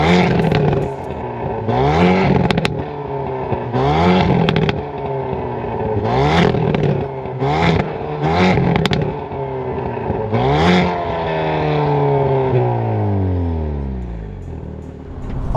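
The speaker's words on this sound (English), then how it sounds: "And let's hear that exhaust sound. It pops" A 2022 Hyundai Veloster N with dual-clutch transmission is revved repeatedly, each loud, close rise and fall followed by crackling exhaust pops, ending in a long falling engine note.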